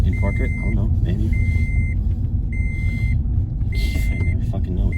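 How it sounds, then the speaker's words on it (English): A car's seatbelt warning chime beeps in a steady repeating pattern of four evenly spaced tones over a low engine rumble inside the vehicle, with no talk. "That's the noise telling you to put your seatbelt on. It beeps like 100 times or something, maybe 200."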